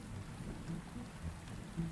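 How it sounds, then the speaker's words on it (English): Rain falls steadily outdoors at night near a sauna, a soft continuous patter with faint low rumbles underneath and no voices. "where's this rain coming from?"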